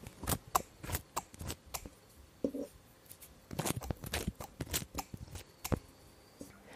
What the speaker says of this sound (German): Dann könnt ihr den Girsch und den Spitzwegerich mit der Schere in kleine Stücke schneiden.